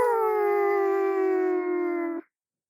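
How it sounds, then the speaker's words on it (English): A long, steady howl like a dog or wolf, one sustained close tone that holds for about two seconds and then cuts off sharply, with no talking over it. "Is it just me, or was that howl a lot closer?"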